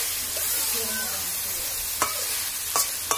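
Onions frying with shol fish in plenty of oil, a steady close sizzle punctuated by a few sharp utensil scrapes and taps near the end, with no talk.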